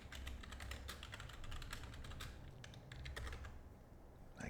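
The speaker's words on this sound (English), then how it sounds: "I got to do some typing here really quick." Rapid clatter of keys on a computer keyboard, dense and continuous with a brief pause near the end, fairly close and steady, no voices.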